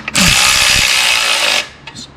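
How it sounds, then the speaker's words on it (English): A cordless electric ratchet runs in one steady, loud burst of about a second and a half, tightening clutch pressure plate bolts during a clutch install, then cuts off, followed by a few faint clicks. "this electric ratchet does not have a lot of torque"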